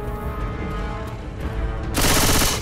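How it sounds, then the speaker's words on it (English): Dense gunfire in the co-op zombie shooter Left 4 Dead 2 during a competitive finals match, a steady rattle of game noise that bursts into a loud, sustained barrage of rapid shots near the end. "Shoot the shit out of that thing!"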